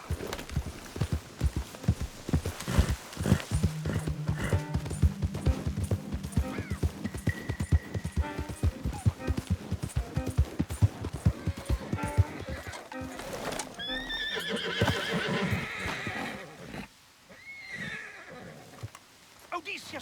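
Horse hooves clip-clop in a steady rhythm while a horse neighs and whinnies several times, with faint bird coos later on, in the video game Red Dead Redemption 2.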